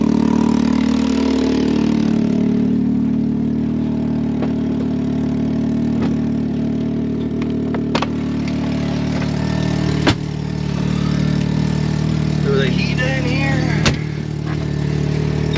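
Can-Am Maverick X3 side-by-side running through snow, its engine a steady, fairly loud drone with gentle swells in revs and a few sharp knocks and clunks, and no speech.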